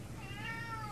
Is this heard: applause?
no